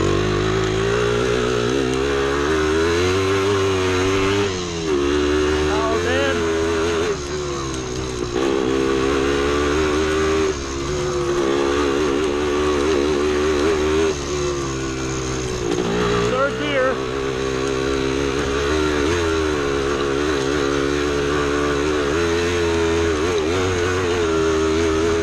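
A 1975 Yamaha DT250 two-stroke trail bike revs hard at speed in third gear on a woods straightaway, a loud, buzzing engine that rises and dips in pitch as the throttle changes, with rushing wind and a voice speaking over it.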